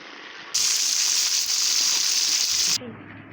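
Pieces of meat fry in hot oil for a pilau roast dish, a sudden loud, steady sizzling hiss that holds for about two seconds and then cuts off.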